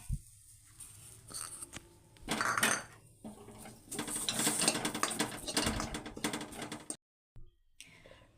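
Figs being sautéed in a pan for dry-fruit ladoos, with clattering utensil scrapes and metallic clinks against the pan in uneven bursts, loud in the middle and fading near the end.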